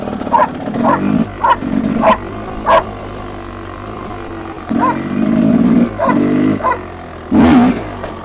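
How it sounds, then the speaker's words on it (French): A small dog barks sharply and loudly close by, in short repeated bursts and quick clusters with brief pauses between, over a low steady hum in a setting where a two-stroke enduro motorcycle is being serviced. "Petit chien."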